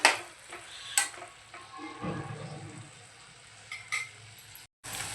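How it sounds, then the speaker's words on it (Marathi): Tomatoes cook down in oil for mutton sukka, a soft sizzle under occasional spoon clinks and stirring scrapes against the pan, close and moderate. "आता आपल्याला टोमॅटो गळेपर्यंत शिजवून घ्यायचं आहे."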